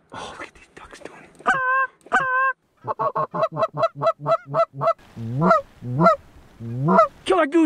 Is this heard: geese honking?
yes